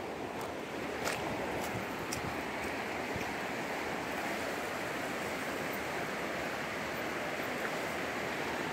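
Flooded Salmon Creek rushes into the Okanagan River during the 2018 flood, a loud, steady broadband roar of fast-moving water that holds constant throughout with no voices.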